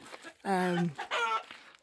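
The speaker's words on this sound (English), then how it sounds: "Chickens are being really noisy." Two drawn-out, nasal squawking calls from nearby fowl, like hens clucking loudly, with faint background noise.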